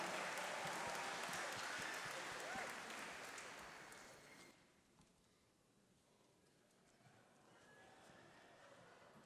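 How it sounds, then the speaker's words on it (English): Applause from a concert audience at an Army band holiday performance, a dense wash of clapping that fades over several seconds and settles into lighter scattered clapping. "Give yourselves a round of applause!"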